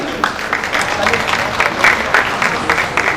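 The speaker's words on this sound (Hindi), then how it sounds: "जोरदार तालियां तरुणा साहू जी की" An audience applauds for a performer of Pandavani at an awards ceremony, steady dense clapping filling a few seconds with a few sharper bursts.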